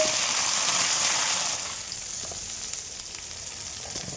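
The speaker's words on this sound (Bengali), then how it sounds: "বেগুনটা দিয়ে দেবো," Eggplant hits hot oil already crackling with dried red chilies, green chilies, black cumin and garlic, giving a loud, bright sizzle that eases to a steadier, softer fry after the first moments.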